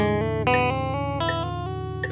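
Fast guitar tapping triplets played with index and ring fingers ring out as a clean, bright run of repeating three-note groups, each note distinct and evenly spaced, close and alone without talk.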